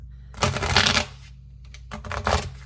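Tarot cards being shuffled by hand in two brisk riffling bursts separated by a short pause, close and fairly quiet, with no talking.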